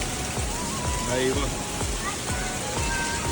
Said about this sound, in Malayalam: പൂളിൽ പോകാൻ നേരം നല്ല കിടിലൻ മഴ.